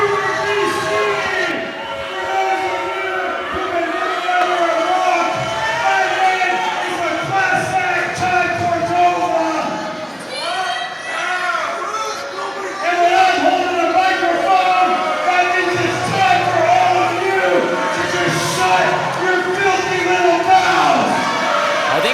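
Loud, continuous wrestling crowd at an Apex Wrestling event, a dense roar of voices with shouts and cheers swelling in the second half, while someone talks over it.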